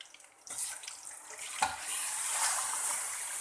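Mutton going into hot oil for karahi, starting with a sharp splash and then settling into a steady, fairly loud frying hiss that fills the rest of the moment.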